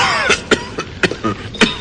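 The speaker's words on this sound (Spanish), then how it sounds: "El ataque de tos le impidió responderme al momento." Repeated harsh coughs, five or six sharp bursts spaced irregularly in a fit, close and fairly loud with a faint breathy background and no speech.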